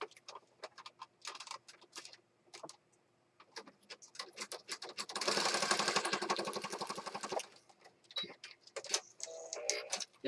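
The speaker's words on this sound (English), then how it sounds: "It's on the sewing machine. Let's sew." A sewing machine stitching a scrappy spring paper journal element runs in a steady dense burst near the middle, with lighter clicks and handling taps before and after, close and moderately loud.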